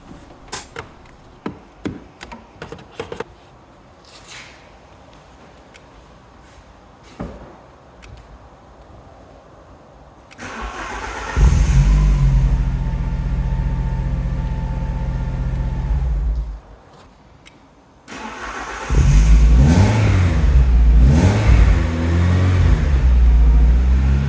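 A car with a completely dead battery, started with an Acmount jump starter pack: clicks and handling noises, then the engine cranks, catches and runs loudly for several seconds, drops briefly and roars back with revving.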